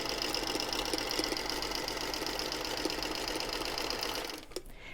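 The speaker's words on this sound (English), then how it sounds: "let me sew this seam" A 1956 Singer Featherweight sewing machine stitches a seam, its rapid steady needle clatter running close and continuous for several seconds before stopping abruptly near the end.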